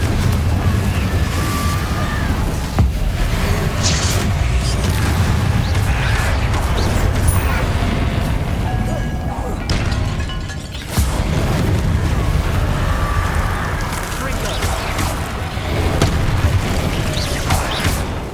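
Confringo fire spells burst against Inferi in Hogwarts Legacy, a steady barrage of loud booming explosions and rumbling impacts over a dense battle din with no clear pauses.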